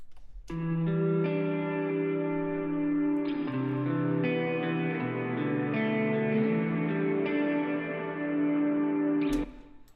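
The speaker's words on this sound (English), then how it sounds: "most of that reverb is coming from my reverb pedal on my pedal board" Four layered electric guitars play sustained chords drenched in long, washy reverb from a reverb pedal, ringing on without pause for several seconds before cutting off.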